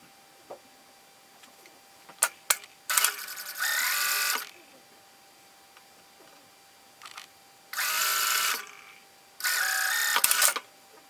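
Sewing machine stitching the bodice side seams of a wrap dress, three separate short runs of steady buzzing stitching with quiet gaps and a few small clicks between.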